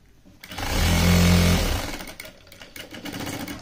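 A sewing machine stitches a fabric lining in one close, loud motorized burst of about a second, then stops. No talking is heard.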